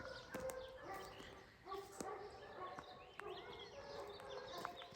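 Several farm dogs, livestock guardians around sheep, bark and yip excitedly in overlapping bursts at varying distances, with whimpering in between and a voice speaking faintly underneath.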